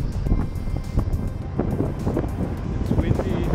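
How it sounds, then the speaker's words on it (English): Gusty wind at about 6 a.m. on wet, windy Dongyin island in Matsu, Taiwan, buffeting the microphone as a steady low roar with a faint rumble of distant engines or boats. "It's windy, it's wet, it's early in the morning"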